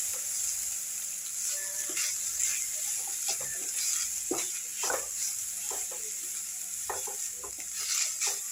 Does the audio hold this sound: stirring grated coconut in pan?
yes